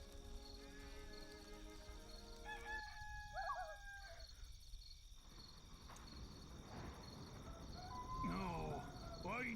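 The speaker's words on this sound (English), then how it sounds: "This rooster wakes me up every single day." A rooster crows in a video game, a bright rising call that stands out against a steady bed of chirping crickets and ambient game sounds, fairly faint overall.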